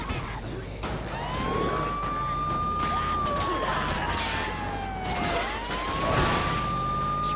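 A wailing ambulance siren in Dead Rising 4 rises and falls in long sweeps over a busy background of engine noise and clatter.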